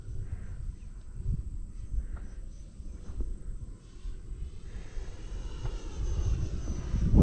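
Futura 64mm RC model jet making a slow, low-power flyby, its distant engine hum and wind rumble steady throughout with a faint high whine, no talking.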